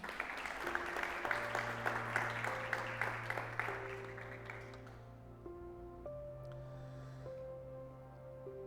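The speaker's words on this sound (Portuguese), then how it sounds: "Você pode aplaudir o Senhor por isso?" A church congregation applauds for the Lord, with dense clapping over sustained organ or keyboard chords before the clapping fades and the music carries on alone.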